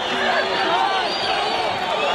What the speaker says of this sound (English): Crowd showing their appreciation here.